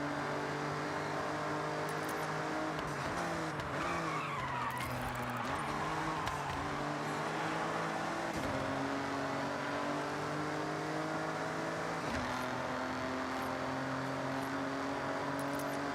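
A race car in the Forza Horizon video game brakes hard for a corner during online racing, its engine note dropping in repeated downshifting steps, then climbing and falling again in stepped revving sweeps, loud and without talk.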